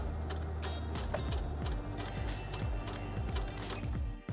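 A Heavy Duty 6800C sewing machine stitches at low speed, a close, steady mechanical hum with a quick, even ticking of the needle clicking through each stitch.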